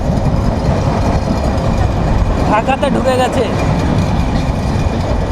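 A Kolkata to Dhaka passenger train runs into Dhaka, its loud, continuous rumble and wheel clatter heard from inside the carriage while someone talks over it.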